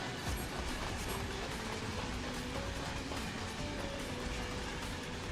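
A train moves in Final Fantasy XIV, giving a continuous dense rumble and rattle of rolling wagons with faint clatter, steady and fairly close, with no talking.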